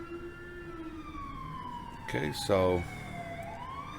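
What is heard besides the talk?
rumbler siren of Ford F-350 ambulance in video game GTA V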